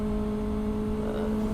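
Kawasaki Ninja ZX25R motorcycle engine holding a steady, sustained drone with a strong constant tone, loud and close, no voices over it.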